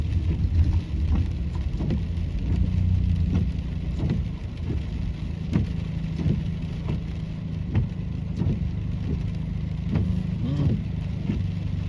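Rain drums on a straight-piped car driving through a heavy downpour in the DMV area, a steady low road rumble with scattered sharp drops and splashes striking the body, fairly close and continuous.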